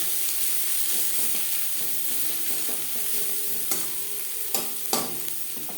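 Onions frying in a pan with salt and turmeric powder for a drumstick flower and eggplant dish, a steady close sizzle with occasional stirring scrapes and clicks throughout.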